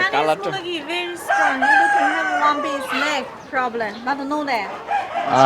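A rooster of a Chinese chicken breed weighing four to five kilograms crows close by on a poultry farm, its calls mixed with people talking over it.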